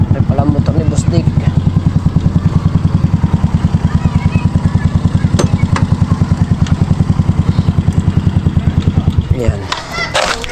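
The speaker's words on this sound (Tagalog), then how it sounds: "May palang motor ni Boss Dick." A motorcycle engine runs steadily close by, its even rapid chugging pulse holding for about nine seconds before cutting off amid some clatter.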